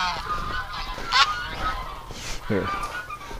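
Geese honk in a few scattered bursts at close range around a winter farmyard, with brief low noise and no clear talk between the calls.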